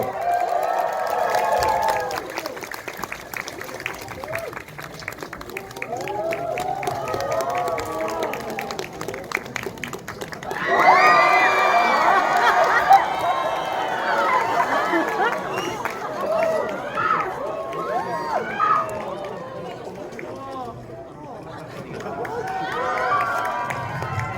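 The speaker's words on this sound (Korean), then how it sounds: "큰박수를 맞아주십시오." A cinema crowd in Hall 20 at Lotte World Tower applauds and cheers as the director and actors of the film The Roundup (Crime City 2) come out for a stage greeting. Clapping and shouts swell midway while people talk throughout.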